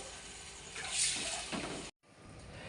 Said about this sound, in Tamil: இனி தண்ணி கொஞ்சம் விடுவோம்